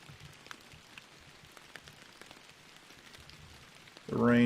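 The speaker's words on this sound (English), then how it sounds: "rain is cool in here." Rain falls in a fishing video game, a steady soft patter of drops with scattered ticks, until a loud, dense burst of sound cuts in over the last half second.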